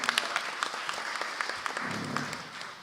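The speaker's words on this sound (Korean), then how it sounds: "박수 부탁드립니다." Steady applause from an audience at a panel discussion forum, a dense patter of many hands clapping continuously throughout and fading slightly at the end.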